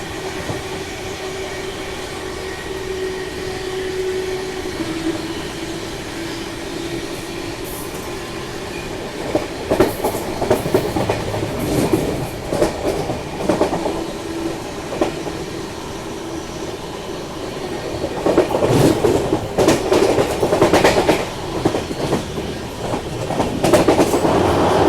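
Mumbai-Hapa Duronto Express running along the tracks, a steady rumbling roar heard from inside the train with rhythmic clickety-clack of wheels growing louder and rougher in the second half, plus faint squeals.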